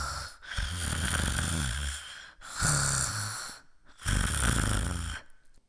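Three long rasping snore-like breaths, each a couple of seconds with short pauses between, made by a voice imitating snoring close up.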